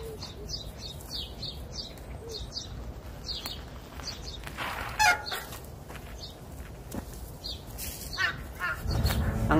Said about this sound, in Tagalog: Ang sarap talaga pakinggan yung mga huni ng mga ibon